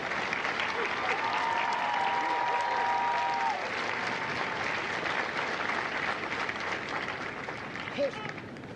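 Crowd applause at a Marine Corps recruit graduation ceremony at MCRD San Diego, broad sustained clapping from a large outdoor audience, with a faint whistle-like tone early on and a voice near the end.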